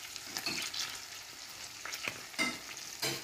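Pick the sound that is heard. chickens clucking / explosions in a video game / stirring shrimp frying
stirring shrimp frying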